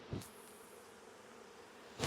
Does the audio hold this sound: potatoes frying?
no